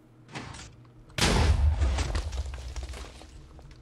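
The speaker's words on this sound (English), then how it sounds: "Let's fire the TNT." A TNT cannon fires in Minecraft: a short lead-in is followed by a sudden loud blast that stays heavy and rumbling for several seconds, decaying slowly into a lingering crackle.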